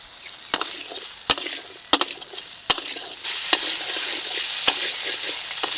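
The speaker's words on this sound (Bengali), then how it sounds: "এখন অল্প করে চিনি দিয়ে ভালো করে আলুটাকে কষিয়ে নেব" Potatoes with turmeric, salt and sugar are sautéed in a pan: a low hiss of frying punctuated by about half a dozen sharp spatula knocks against the pan, the sizzle swelling louder midway; no speech.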